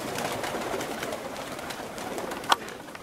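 Pigeons in a loft in Veria, Greece, coo and rustle continuously before being released to fly, with one sharper call near the end.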